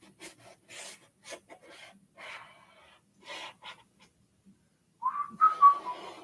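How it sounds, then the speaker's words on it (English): A person whistles a short, clear melody while doing abstract acrylic painting, after a few seconds of soft brush rasping and scraping. The whistle is close, fairly loud and lasts only the final second or so. "I whistle a lot when I paint, usually"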